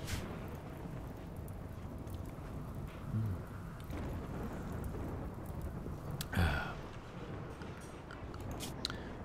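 Steady rain in the colony-building video game RimWorld, a continuous soft wash of falling drops with a couple of brief louder knocks, heard alone at moderate level.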